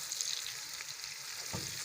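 Onions frying in hot ghee for chicken mattar pulao, a soft steady sizzle with faint stirring, close and continuous with no talk.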